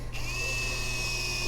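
A power drill drives a screw during an interior door handle repair on a Lexus RX350, giving a steady, close motor whine that runs throughout the short clip.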